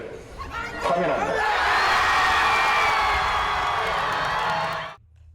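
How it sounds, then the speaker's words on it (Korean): A crowd of citizens gathered at Dongseongno in Daegu erupts into loud cheering, whoops and applause that swell after a moment, hold strongly, then cut off abruptly; scattered voices shout within the roar. "대구 동성로에 모인 시민들에게선 박수갈채와 함께 큰 환호성이 터져나왔습니다"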